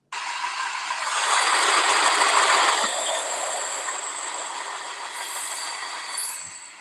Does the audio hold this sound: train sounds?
yes